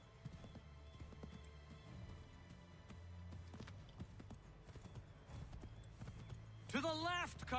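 Horses trot along a riverbank in the video game Assassin's Creed III. A steady rhythm of hoof clip-clops runs beneath low music and a voice, and a horse whinnies near the end.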